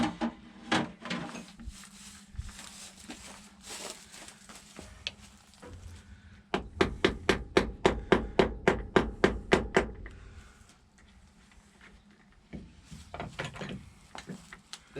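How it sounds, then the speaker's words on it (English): A hammer taps on a large hydraulic filter on farm machinery, first a few scattered knocks, then a quick run of about a dozen sharp, evenly spaced metallic blows up close, followed by more scattered taps. "Give me a hammer to give it a little tappy tap."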